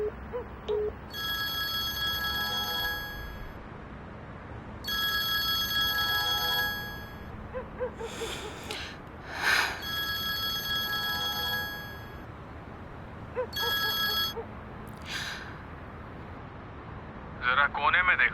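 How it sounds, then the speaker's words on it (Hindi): A telephone rings in repeated electronic bursts with pauses between them, heard indoors in a dramatic scene with other sounds and movement. "किसी का फोन आ रहा है,"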